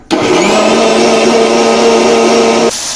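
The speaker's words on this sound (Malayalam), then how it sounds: "അപ്പോൾ നമുക്ക് നന്നായിട്ട് അടിച്ചെടുക്കാം കേട്ടോ നന്നായിട്ട് അരഞ്ഞു കിട്ടണം" A mixer grinder grinding soaked rice into a paste for cumin porridge, a loud, close, steady motor whir that starts abruptly and cuts off near the end, with no one talking.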